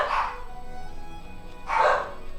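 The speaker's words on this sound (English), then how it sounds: "My dogs are barking." Two separate dog barks sound nearby, one at the start and one just under two seconds later, with a faint steady background between them and no voices.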